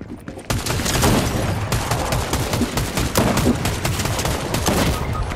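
Automatic weapons fire in Fortnite: a dense, continuous barrage of rapid shots nearby, unbroken for several seconds and loud throughout.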